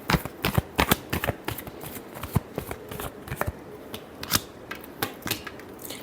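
Tarot cards being shuffled by hand, a steady run of crisp riffling snaps and soft flutters close by, with no talking.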